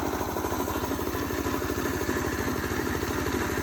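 A Predator gas engine runs an air compressor with a slipping drive belt, giving a steady, loud mid-pitched engine drone with rapid rhythmic chugging and clatter throughout, close by and with no voices.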